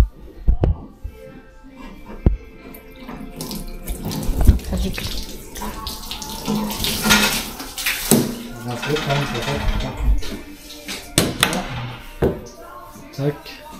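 Water is drained from a milking setup tank, a splashing, running flow with a few sharp knocks and clatters nearby while people talk over it.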